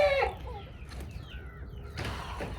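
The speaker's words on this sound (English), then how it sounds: "This rooster right here." Samson, a backyard rooster with an injured leg, gives a short cluck or squawk at the start, followed by quieter scratchy sounds and another brief burst near the end, close by.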